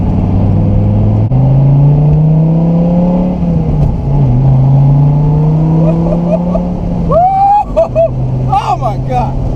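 Dodge Viper SRT-10 with its V10 engine, a loud close drone that climbs through revs, dips and swells again, with voices rising over the engine near the end.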